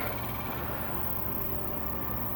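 An outdoor air conditioner runs on a hot summer evening beside a garden bed, giving a steady, loud mechanical hum and hiss that stays unchanged throughout.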